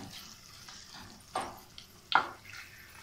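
Tadka spices sizzle in hot oil in a pot while kadhi pakora is being made: a faint, steady frying hiss with two brief, louder crackling spurts, and no talking.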